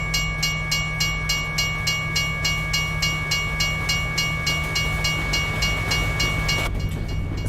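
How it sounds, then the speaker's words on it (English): A train rolls through a railroad crossing, its wheels beating a steady clickety-clack rhythm over the rails while a crossing bell rings in repeated, evenly spaced dings; the rumble is loud and near, then cuts away sharply near the end. "Yep, there's the train coming"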